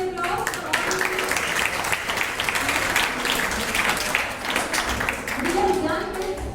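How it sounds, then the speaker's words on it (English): Audience of students and teachers applauding quiz teams at an inter-house school science quiz competition, sustained moderate clapping across the whole stretch with some voices mixed in. "Big round of applause for all of you"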